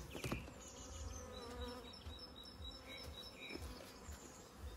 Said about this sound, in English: There's only a handful of bees left in the box